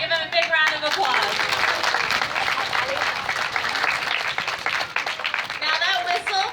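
Crowd at a marine aquarium show breaking into loud, sustained applause, many hands clapping together, with brief voices or whistles audible at the start and end.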